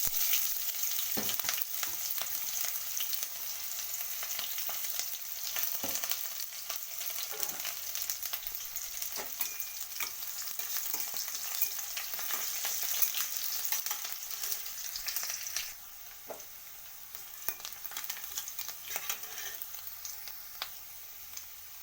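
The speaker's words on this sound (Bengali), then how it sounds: "এরপর আমি কুচিয়ে রাখা পেঁয়াজগুলো দিয়ে দিলাম" Chopped onions frying with panch phoron in a pan for ghugni, a steady bright sizzle with scattered scraping stir strokes throughout, dropping slightly quieter near the end, with no talking.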